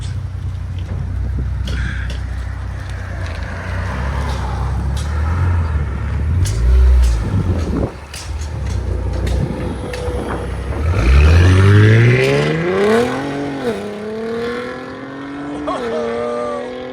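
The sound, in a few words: Ford Explorer ST V6 exhaust revving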